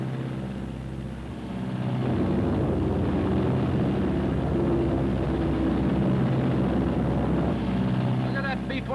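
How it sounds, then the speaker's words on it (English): A Martin B-26 bomber in flight, heard from inside as a loud, steady piston-engine drone with a continuous low rumble and harmonic hum throughout. "I want to show you how this airplane flies on instruments."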